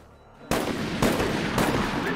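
Gunfire in the video game Resident Evil: Operation Raccoon City, loud sustained bursts of rapid shots starting abruptly after a quiet moment and continuing without pause.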